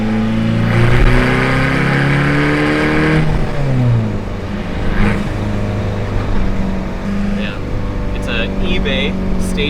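A VW TDI turbo diesel swapped into a Ford Ranger revs hard and loud up close, a steady droning engine note rising and holding, with people talking over it.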